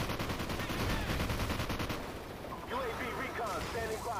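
Rapid automatic AK-47 fire in a first-person shooter video game, a dense rattling burst over the first two seconds, then quieter game sounds and a voice talking over it.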